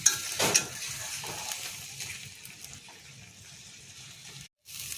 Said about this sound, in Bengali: আমি এটাকে একটু ভেজে ভেজে শুকিয়ে নিচ্ছি।